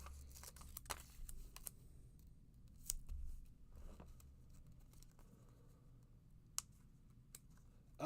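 A pair of scissors is handled and pulled out with scattered light metallic clicks and snips, sharp isolated ticks over a quiet background with faint rustling in between.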